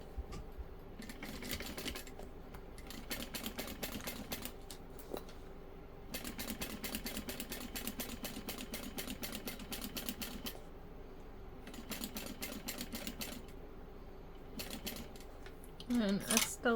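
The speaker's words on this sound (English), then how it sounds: "we're stitching it with the side panel up. And you're gonna go all the way around, back stitching at the start and stop." Sewing machine stitching around the side panel of a handbag, with back stitching at the start and stop: rapid mechanical chattering in bursts separated by short pauses, close and moderate in level, no talking.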